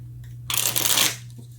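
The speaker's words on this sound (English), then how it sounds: "let's go ahead and get some cards from the universe. Oops, messing up the cards." A deck of cards is shuffled in one quick, close riffle burst lasting about half a second, with quiet room hum before and after.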